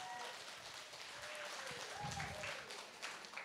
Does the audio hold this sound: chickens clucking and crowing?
no